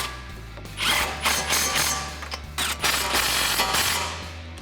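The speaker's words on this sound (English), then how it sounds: "we are going to tighten these bolts back up." A hand ratchet with a 15mm socket tightens the coilover bolts on a 2015-2019 Mustang, heard as close, bursty runs of rapid clicking with short pauses between strokes, loud and dry with no talking.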